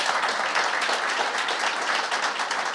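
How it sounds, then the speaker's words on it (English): Steady audience applause for a panel of four at a disability federation event in Ireland, a dense continuous patter of many hands at even loudness. "So a round of applause for our last 4 panellists."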